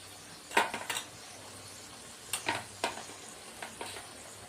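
Spices with turmeric powder sautéed in a pan for a paneer and cauliflower vegetarian dish, heat turned up: a few short scraping stirs and light clinks over a faint, steady sizzle, quiet and close.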